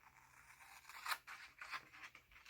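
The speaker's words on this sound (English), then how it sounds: "and we are going to start cutting." A pair of scissors snips through a sheet of paper in a few crisp, close cuts, with soft crunching and rustling of the paper between the snips in a quiet room.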